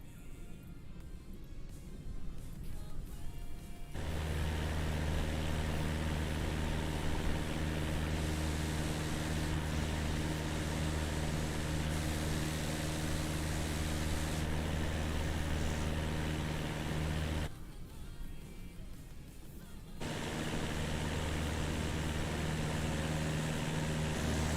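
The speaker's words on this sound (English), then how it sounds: "The engine's really loud on that one." A loud aircraft engine drones steadily in Microsoft Flight Simulator, a bush flight over New Zealand terrain, with a strong humming tone that cuts out briefly near the start and again later before resuming.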